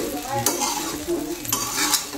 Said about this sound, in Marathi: असं चांगल्या प्रकारे हलवून घ्या।